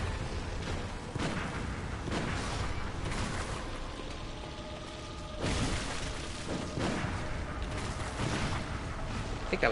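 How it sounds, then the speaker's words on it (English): Gunfire in the video game Bloodborne, loud sharp blasts and booming impacts recurring through a dense, noisy game soundtrack, with bursts clustered early and again in the second half. "I think that was a gunshot."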